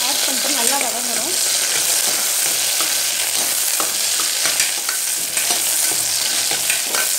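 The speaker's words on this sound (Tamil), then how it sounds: "வெங்காயம் கருவேப்பிலை ஆட் பண்ணிட்டு நல்லா வதங்கணும்." Onions and curry leaves sauté in a pan for a country chicken pepper roast, giving a loud, steady sizzle with scraping stirs throughout and no talk.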